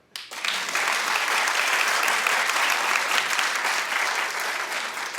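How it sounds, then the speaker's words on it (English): Studio audience on a daytime talk show bursting into steady, loud applause right after a brief quiet lead-in, a dense wash of many hands clapping that holds for several seconds without talk. "Clap if you do"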